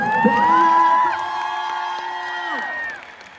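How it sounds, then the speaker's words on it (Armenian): A concert crowd at Dalma Garden Mall in Yerevan cheers, whoops and claps at a solo show, with sustained shouted calls rising over a steady roar that fades near the end. "եկեք մի հատ տաքանանք ծափահարություններով"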